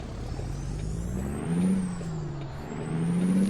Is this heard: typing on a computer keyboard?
no